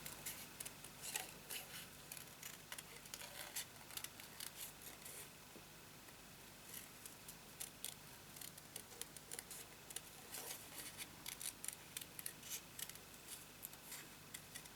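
Scissors snip through paper in quiet, repeated small cuts, close by and faint, with no talking.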